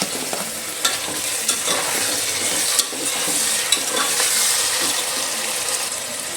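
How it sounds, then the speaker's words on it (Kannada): Tomatoes and onions fry in a pan, giving a constant bright sizzle broken by repeated scraping clicks as a spoon stirs them, close and moderately loud with no talking. "ಇವಾಗ ಟೊಮೆಟೊ ಹಾಕ್ಕೊಳ್ತೀನಿ."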